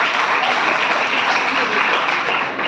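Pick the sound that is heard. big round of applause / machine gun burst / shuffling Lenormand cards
big round of applause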